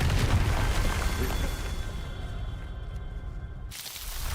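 A Confringo fire spell erupts in Hogwarts Legacy with a loud, heavy boom that rumbles and decays over a few seconds before cutting off abruptly.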